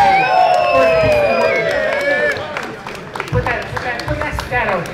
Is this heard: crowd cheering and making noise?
yes